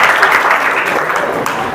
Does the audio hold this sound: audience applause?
yes